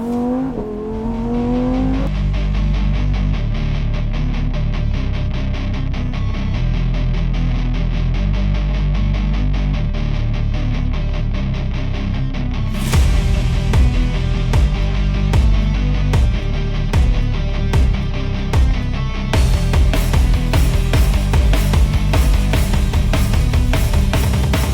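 Lamborghini Huracan and Urus combustion-engine cars drive along Italian countryside roads, their engines droning loud and continuous, rising in pitch through revs and shifting gears, with sharp crackling bursts later on.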